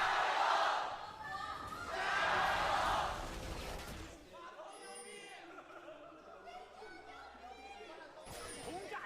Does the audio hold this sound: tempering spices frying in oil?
no